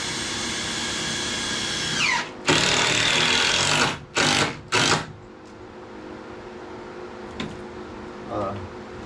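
A power driver sinks 2.5-inch deck screws with a T20/T25 torx bit: a long whirring run, then several short loud bursts, followed by quieter tool handling and faint clicks.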